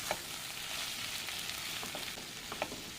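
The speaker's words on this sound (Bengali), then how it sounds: "দিয়ে শাকটাকে এবার নেড়ে চেড়ে নেব।" Red amaranth leaves stir-fried in a pan for a prawn and red amaranth dish give a steady close sizzle, with light scraping stirs every half second or so and no talking.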